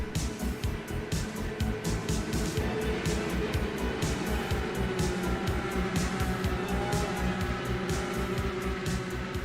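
A pack of race cars circles Pocono Raceway in the iRacing sim, engines droning loudly and continuously with rapid pulsing as the field runs together, no speech over it.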